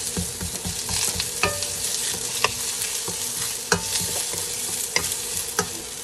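Ingredients for mussel tinola sauté and brown in a hot pan, a constant sizzle and crackle broken by scraping stirs and clinks of a utensil against the pan, close and alone.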